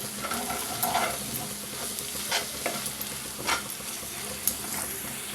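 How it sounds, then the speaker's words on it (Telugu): Turmeric and chili powder being stirred with salt in a pan for capsicum gravy curry, with repeated scraping strokes over a steady frying sizzle, close and clear. "అలాగే పసుపు కారం వేసుకోవాలి దీన్ని బాగా కలుపుకోవాలి"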